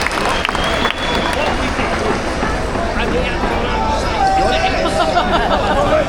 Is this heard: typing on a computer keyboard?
no